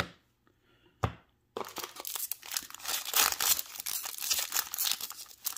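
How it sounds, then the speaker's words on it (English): Magic: The Gathering M21 booster packs are torn open up close, with a sharp rip followed by dense, continuous crinkling and crumpling of foil wrappers. "It's crazy how easy these packs open compared to Commander Legends."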